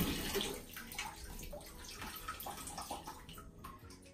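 Water pours steadily into a bathtub being filled to bathe cats, a continuous splashing rush with gurgling, close and moderately loud, with no voices.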